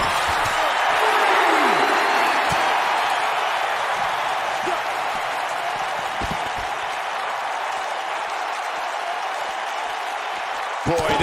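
Video game arena crowd in WWE 2K19 applauding steadily through a wrestling match, a dense continuous roar of clapping with a few sharp thuds and faint commentary voices mixed in.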